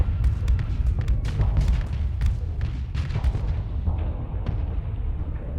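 Rapid, dense weapon fire from ships in the space combat game Starsector, a steady barrage of booms and sharp cracks with repeated transient bursts over low rumble, loud and continuous throughout.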